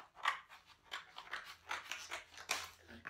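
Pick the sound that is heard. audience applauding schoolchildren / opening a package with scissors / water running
opening a package with scissors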